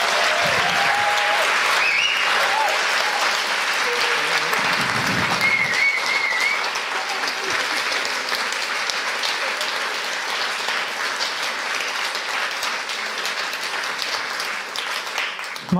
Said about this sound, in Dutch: mag ik zeker applaus